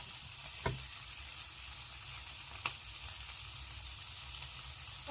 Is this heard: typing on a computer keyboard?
no